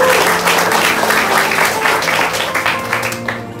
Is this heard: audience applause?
yes